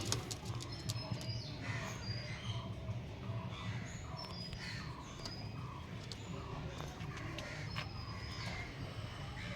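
Long-beaked pigeons coo in soft low murmurs over a busy background of chirps and rustling, with faint talk now and then.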